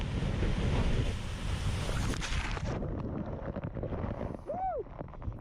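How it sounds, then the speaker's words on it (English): A piece of glacier ice in Iceland breaks off and crashes into the water beside a tour boat: a loud, sustained roar with wind and surf, dropping off sharply after a few seconds to a quieter wash. "a piece of the glacier actually broke off and fell into the water"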